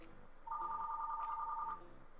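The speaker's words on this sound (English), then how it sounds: "The phone's ringing." A telephone ringing in the game Banjo-Kazooie, one short electronic trill lasting just over a second over quiet background music.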